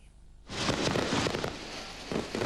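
Fireworks display over Sydney Harbour for the 1999 New Year celebrations, bursting in suddenly after a quiet moment into a dense, continuous crackle and rumble of explosions, with fresh bangs near the end.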